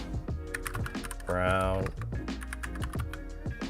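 Typing on a Glorious GMMK Compact mechanical keyboard with brown switches, a steady run of close, crisp key clicks heard under someone speaking.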